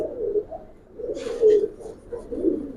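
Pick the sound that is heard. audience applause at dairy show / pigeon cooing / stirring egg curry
pigeon cooing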